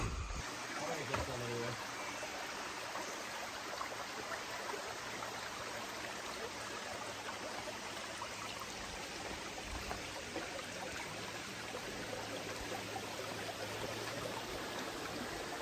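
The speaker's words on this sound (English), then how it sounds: "Beautiful brook in the morning." A mountain brook flows steadily on an Appalachian Trail morning near Mt. Smarts, a broad, even wash of running water that stays constant and close throughout with no talk over it.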